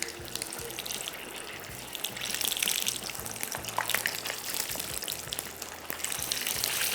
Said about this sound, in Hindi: इसमें शामिल करेंगे हम आलू के वेजेस, जिसको हमने डीप फ्राई करना है